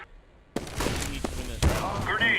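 Gunfire in CS:GO during a professional match between Fnatic and Bravado Gaming: a few sharp, close shots and thuds after a brief quiet start, with a burst near the end.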